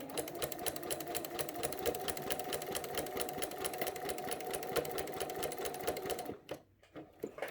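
A sewing machine quilting a placemat hums and chatters in a fast, even rhythm close up. It runs continuously for several seconds and then stops abruptly near the end.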